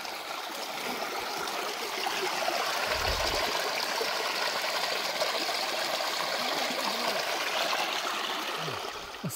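A mountain stream flows at night in the countryside, a steady, dense rush and trickle of running water that fills the whole clip, close and continuous with no talking.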